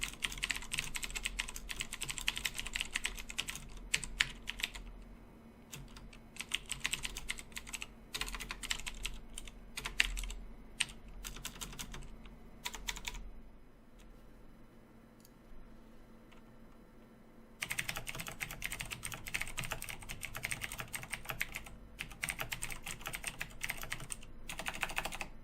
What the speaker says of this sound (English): I'd like to give a quick sample of what the keyboard sounds like